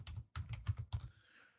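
Fingers type rapidly on a computer keyboard while a Linux command is entered, a close, quiet patter of key presses in short bursts with one brief pause, then fading out.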